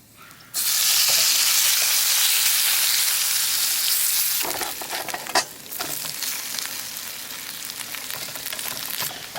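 Potatoes fry in olive oil in a skillet over a camp stove with burnt-on residue, giving a loud, steady sizzle that kicks in abruptly and continues throughout, with occasional stirring scrapes in the second half.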